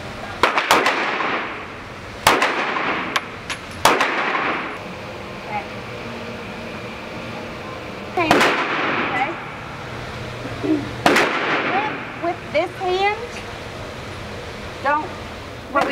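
Firearm gunfire at a shooting range, with several loud, sharp single shots spaced irregularly and a voice speaking between them.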